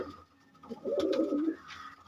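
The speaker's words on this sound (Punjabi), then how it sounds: "ਇਹ ਆ ਬਾਈ ਕਬੂਤਰ ਇੱਧਰ ਉੱਡਣ ਵਾਲਾ" A single pigeon coos nearby, a soft throaty warble lasting under a second amid quiet surroundings.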